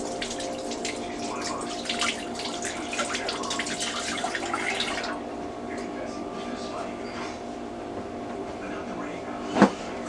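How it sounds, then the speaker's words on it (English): Tap water running into a kitchen sink while hands are washed during baking, a steady close gush for about five seconds that then fades to a quieter hum, with a sharp knock near the end. "Let me wash my hands here"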